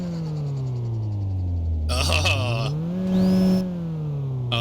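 A Wolf Wagon car engine in a video game runs steadily with a low droning tone that dips and then climbs as it revs, with a brief whirring rise near the end of the rev. Voices and other sounds break in partway through.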